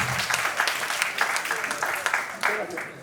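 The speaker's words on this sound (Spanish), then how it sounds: "Aplausos a todos los..." Applause from the audience at the close of a talk on solid-state stationary barriers by Dr. Marcos Mallqui Espinoza, steady dense clapping for about three seconds with a voice speaking faintly over it.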